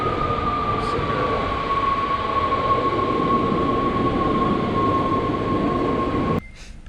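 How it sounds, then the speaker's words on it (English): Steady interior rumble of a train riding through Amsterdam, with a sustained whine held across the ride and a faint squeal near the start, the noise dropping abruptly at the very end. "Trains are so good here."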